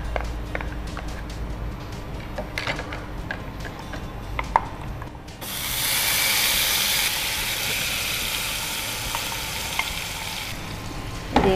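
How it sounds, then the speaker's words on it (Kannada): Onion paste frying in a pan, a steady close sizzle that swells and brightens partway through, with faint stirring clicks and scrapes over the hiss. "ಇದು ಇವಾಗ ಸ್ವಲ್ಪ ಫ್ರೈ ಆಗಲಿ."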